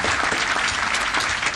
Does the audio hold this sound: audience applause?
yes